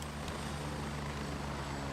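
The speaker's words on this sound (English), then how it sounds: "I can't hear anything over the fucking chopper." A helicopter in a video game, a steady close rotor and engine drone filling the whole short stretch with no pauses.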